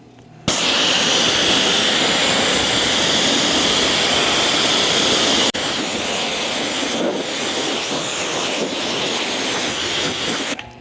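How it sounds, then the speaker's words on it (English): A pressure-washer spray hisses steadily as water rinses down a Volvo car during washing, a loud continuous rushing jet that briefly shifts midway and cuts off at the end. "And all I'm doing is rinsing this down."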